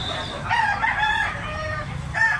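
A big-sized, ten-month-old Cebu Banded rooster crows once, fairly faint and at a middle distance, over quiet background noise.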